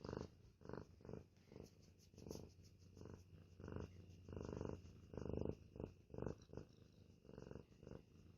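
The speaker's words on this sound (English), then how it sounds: "let's hear you purr" A cat purrs close up in a soft, rhythmic rumble, each pulse rising and falling with its breathing, quiet and alone.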